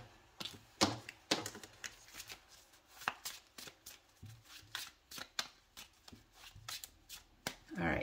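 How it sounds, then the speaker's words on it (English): Quiet, close riffle-shuffling of a tarot deck runs for several seconds in repeated bursts of crisp card flutters and taps, and no one speaks. "And now I just need to shuffle this one."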